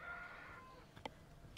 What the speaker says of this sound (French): le coq d'à côté il a des choses à dire apparemment